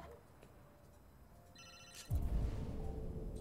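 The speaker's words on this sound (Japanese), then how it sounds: "電話かかってきてますよ。" A phone rings in the video game Detroit: Become Human, a short electronic ringtone chirping briefly over a quiet room hum, followed by a louder burst of rustling game ambience.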